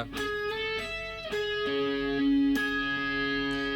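An electric guitar with effects plays a song, ringing sustained chords and single notes that change every half second or so, clean and alone.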